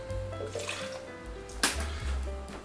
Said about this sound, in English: we're going to put in a third of a cup of cider vinegar